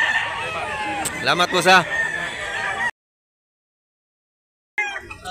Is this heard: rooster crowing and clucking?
yes